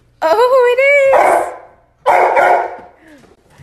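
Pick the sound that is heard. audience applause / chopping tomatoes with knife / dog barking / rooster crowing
dog barking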